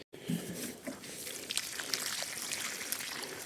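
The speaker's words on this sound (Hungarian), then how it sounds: "most először is belocsolás következik" Water poured from a can or hose onto soil around newly planted perennials in a garden bed, a steady trickling splash after a brief pause at the start.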